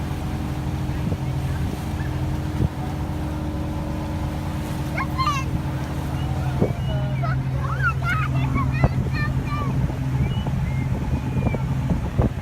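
Steady droning of a motorboat engine on water with wind noise, while voices talk and call out in the background.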